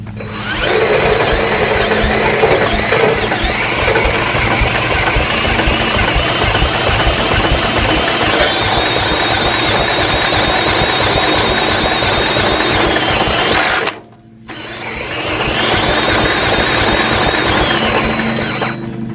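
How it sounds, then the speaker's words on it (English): A Case 224 garden tractor engine cranks over with a loud, rhythmic churning from the starter, close by. It runs for about fourteen seconds, pauses briefly, then cranks again. "now I'm going to turn over the tractor and see if fuel's come out of that hose"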